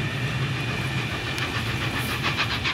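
Steam locomotive Flying Scotsman 60103 pulling away toward York on a Carlisle to York run, a steady rolling train rumble with clicking wheel sounds, fairly close and continuous, with no talk over it.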